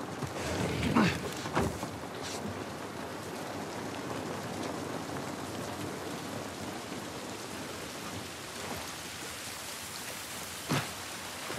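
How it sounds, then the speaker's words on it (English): Steady rain in The Last of Us Part I, a constant hiss of falling water on surfaces that runs the whole stretch, with a few sharper knocks and drips near the start and again near the end. "This rain ain't gonna do us any good."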